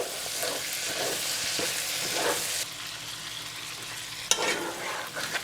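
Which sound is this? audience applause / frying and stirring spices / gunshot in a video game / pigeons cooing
frying and stirring spices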